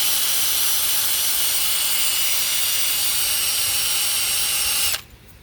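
Power sander with a fine teal Scotch-loc disc reshaping a damaged redline wheel, a loud steady high-pitched whirring grind that runs evenly, then stops abruptly near the end.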